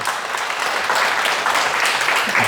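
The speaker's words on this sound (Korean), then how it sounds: "큰 박수 부탁드립니다." Loud, dense applause from a seated audience at a Korean talk or Q&A session, a steady wash of many hands clapping that holds for the whole stretch.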